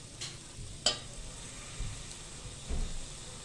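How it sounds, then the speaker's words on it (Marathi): Green peas sautéing in a pan for masale bhaat, with a faint steady sizzle and a few scattered scrapes and knocks from stirring. "वाटाणा हा आपल्याला छानपैकी परतवून घ्यायचा आहे"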